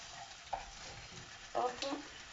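Bread fries in butter in a pan: a faint, low sizzle with a few brief scrapes and stirring bumps near the start and end.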